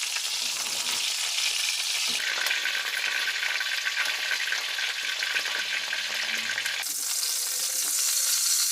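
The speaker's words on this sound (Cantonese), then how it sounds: "再打側煎下側邊啲雞皮" Chicken leg skin frying in an iron wok: a loud, continuous sizzle with bursts of crackle, steady throughout and close up, with no voices.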